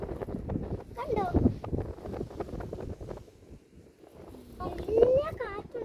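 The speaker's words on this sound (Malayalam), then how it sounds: "നല്ല കാറ്റുണ്ട് കേട്ടോ." Strong cold wind on a hilltop buffets the microphone in rough gusts, heaviest at the start and again near the end, while a person talks throughout.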